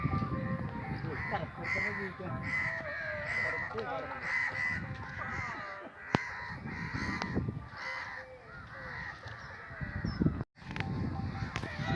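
Several crows caw repeatedly at a moderate distance, their calls layered over constant outdoor noise and faint talk.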